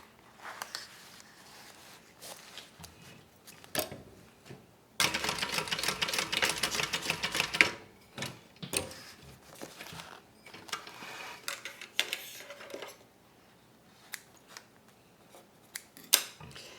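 A sewing machine stitching a short seam on a bag, one brief burst of rapid mechanical whirring in the middle, surrounded by quieter handling clicks and rustles of fabric.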